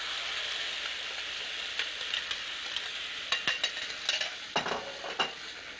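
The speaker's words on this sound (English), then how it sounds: "So then in the same skillet, we'll add the puree of tomato and chili." Tomato and chili puree hits a hot skillet holding beef pan juices, bursting into a loud, bright sizzle that keeps hissing, with spattering pops and scraping stirs growing busier toward the end.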